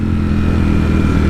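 Engine of a Ducati Streetfighter V4S motorcycle running steadily up close, a dense continuous growl with a low rumble and faint mechanical clatter, no voices.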